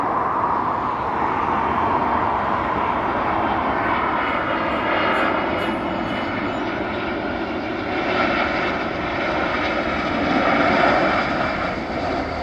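American Airlines airliner at Dublin Airport, its jet engines roaring steadily as it passes, a broad continuous rumble that swells slightly near the end, heard alone without voices.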